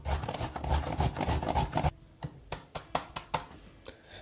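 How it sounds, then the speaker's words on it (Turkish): A carrot is rasped against a kitchen grater in quick, close strokes. The scraping is dense at first, then slows to about eight separate, evenly spaced passes. "İlk önce birinci havucumuzu rendeliyoruz"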